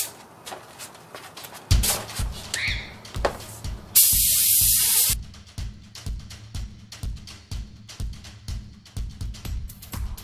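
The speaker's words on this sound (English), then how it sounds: "anytime I do large areas, like trailers and stuff like that, I just spray it" A spray paint gun coats a trailer in a workshop, giving a loud sustained hiss of about a second between rapid clattering and knocking sounds.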